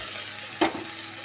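Onions fry in hot oil in a pan and are stirred with garlic-ginger paste, giving a soft continuous sizzle with one brief scraping stir near the middle.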